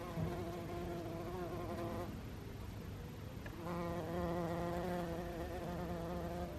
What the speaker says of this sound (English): We've actually got a bee who's loving the plants. I can hear him, but I can't see him.